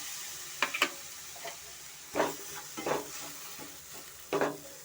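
Badam halwa being stirred in a pan as milk is added bit by bit, giving a run of wet scraping strokes in uneven bursts over a soft sizzle, close and moderately loud with no talking.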